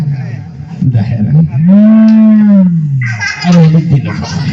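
An old ox gives a long, loud, close moo that rises and falls. Shorter lowing and breathy sounds come before and after it.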